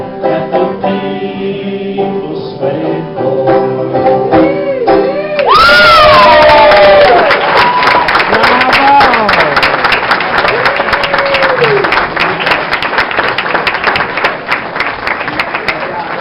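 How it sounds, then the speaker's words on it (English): Party audience bursting into loud applause and cheering after a musical performance, with whoops and shouts over sustained clapping; singing with a held tone comes before the crowd erupts, and talk carries on over the noise. "Give another round of applause for Mr."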